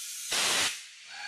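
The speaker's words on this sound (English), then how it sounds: "you get the jets that come up from the bottom and help seal the bottom bead," A loud burst of rushing air from a center post tire changer's bead seating jets, a sharp hiss lasting about half a second, rising abruptly and cutting off, with quieter background noise around it.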